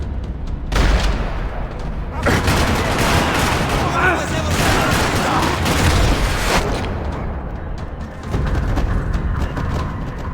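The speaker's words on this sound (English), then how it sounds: "Another parking lot rattling with gunfire." Sustained rattling gunfire fills a parking lot shootout in the Max Payne 3 video game, dense bursts and booming shots stacked nearly continuously and loud throughout, with a brief lull before the barrage resumes.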